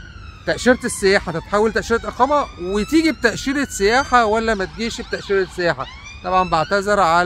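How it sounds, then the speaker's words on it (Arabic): An ambulance siren wails outdoors behind someone talking, its rising and falling tones repeating steadily and clearly audible under his continuous speech. "الصوت اللي ورايا، في اسعاف ورايا مش عارف هتشوفوها ولا لا، بتجري بسرعة"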